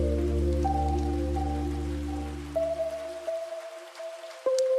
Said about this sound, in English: Nice rain texture.